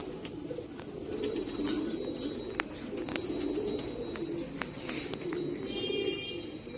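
Pigeons at a loft in Allahabad keep up a soft, continuous low cooing, layered and close, with a few sharp clicks and faint chirps mixed in and no talking.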